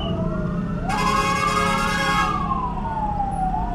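An ambulance siren wails on the road behind a hybrid car in traffic near a busway lane, rising in sharply after a second and sweeping up and down, fairly close and loud over a steady road rumble, with no talking.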